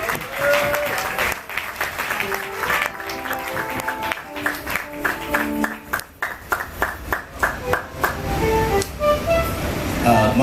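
Congregation at a church service applauding and cheering in a steady wash of clapping, with scattered voices and a musical backing rising and falling beneath the applause.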